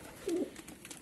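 A single soft, low coo from a pigeon, brief and fairly faint against quiet background noise.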